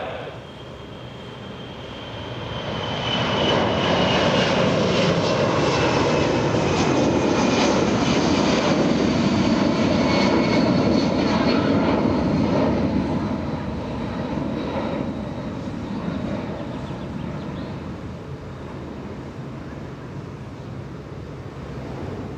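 Air Force One, a large jet aircraft, takes off during a presidential departure for a NATO summit, with a loud, broad engine roar that swells over a few seconds and holds steady, with a faint whine and some wind buffeting.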